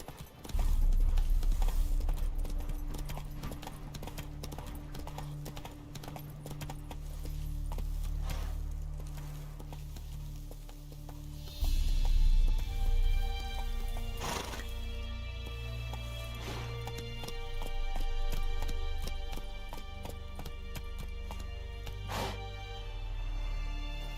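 Roach the horse gallops in The Witcher 3: Wild Hunt, a steady, loud clip-clop of hooves that runs without a break under game music. A brief whinny comes through, and there is no talk.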